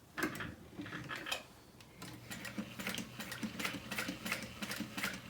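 A sewing machine stitches a single line along handbag strap connectors, its rapid mechanical needle ticking running steadily at close range with short pauses and restarts, no talking.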